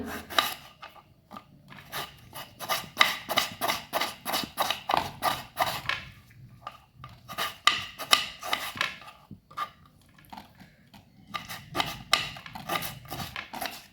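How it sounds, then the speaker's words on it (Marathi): A knife finely chops tomatoes on a board for a sprouted moth bean curry, with rapid rhythmic bursts of close, crisp blade taps separated by short pauses. "आता आपण टोमॅटो पण बारीक असे चिरून घेऊया।"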